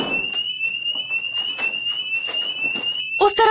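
A school fire alarm rings continuously as a steady high electronic tone, loud and unbroken, with faint background voices and a brief louder burst of movement near the end.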